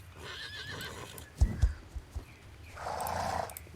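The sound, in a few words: horse neighing and hooves in a video game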